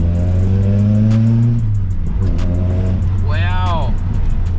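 Nissan Pulsar SSS with a freshly repaired exhaust revs up several times, a loud, close engine note climbing and dropping in pitch with a sharp blip near the end.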